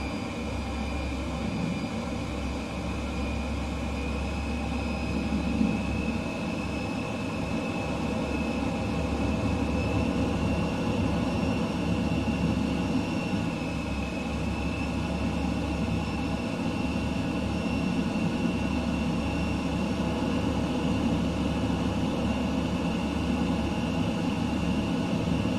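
An F-15 jet engine in Microsoft Flight Simulator 2020, flown low through the Mach Loop, gives a continuous loud drone with steady tonal whine layered over broad rumble, unbroken throughout and without speech.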